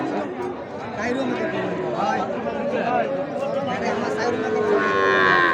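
Cattle low in drawn-out moos at the Ambari livestock market in Bangladesh, heard under steady crowd chatter and nearby voices, with a louder moo near the end.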